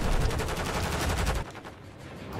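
A loud, rapid burst of automatic gunfire from Call of Duty MW3, firing in a fast, steady rhythm before cutting off into quieter game ambience with a few faint distant shots.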